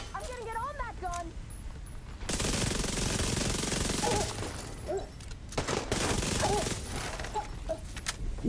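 A mounted gun in The Division fires sustained, loud bursts of automatic gunfire in long rattling stretches, with a voice speaking briefly before the shooting begins.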